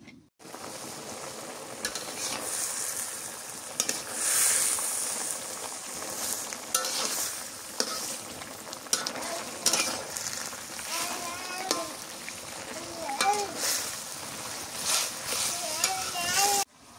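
Curry being sautéed in a pan in a rural village kitchen, a steady sizzle with scraping stir strokes running throughout, while people talk nearby.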